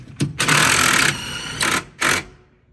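A power drill driving the stabilizer jacks of a 2022 Forest River 26DBH RV trailer, heard as a few close, loud whirring bursts of varying length separated by short pauses, with no talk.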